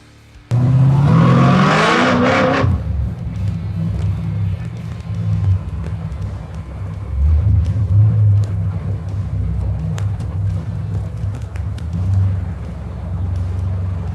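A 1955 Chevy fitted with a supercharged CTS-V engine drives down a street, starting with a sharp rev and then holding a loud, steady low engine drone that swells and eases while passing close by.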